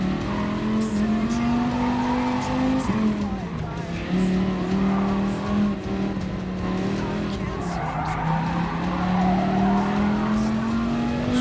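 A Dodge Viper driven in Gran Turismo Sport, its engine droning steadily as tires squeal and skid through corners, with a continuous loud whine rising and falling under a man's speech.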